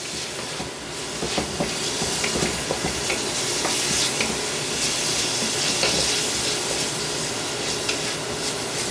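Steady, close sizzling and crackling of steak frying in a hot pan, with occasional scraping clicks, continuous throughout with no voices.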